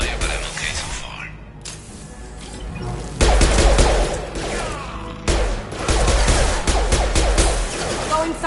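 Heavy gunfire and bursts of automatic weapons fire from a Mass Effect 2 combat sequence, loud and continuous with brief lulls, mixed with crashes and mechanical clatter.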